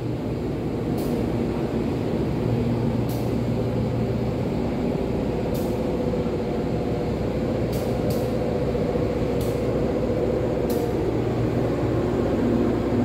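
A train arriving at a station rumbles steadily in a continuous low drone, with occasional brief hissing bursts like air brakes, no voices.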